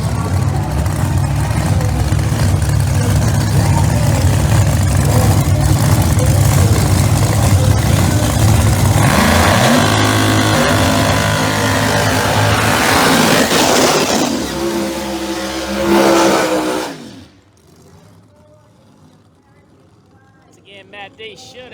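Pro Mod drag racing cars, including a Camaro, launch down the strip at an outlaw Pro Mod event with a loud, sustained roar that builds and then cuts off abruptly. A commentator talks over the engines.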